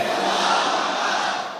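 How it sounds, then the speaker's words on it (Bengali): A large crowd loudly chants the takbir in unison at an outdoor Bengali waz mahfil religious gathering, a sustained, dense roar of many voices. "আওয়াজ করে পড়েন সবাই, লিল্লাহে তাকবীর, লিল্লাহে তাকবীর, লিল্লাহে তাকবীর"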